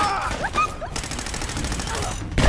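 Gunfire in the Fallout 4 video game, a rapid automatic burst of regularly spaced shots filling most of the moment, loud and close, after a brief spoken line.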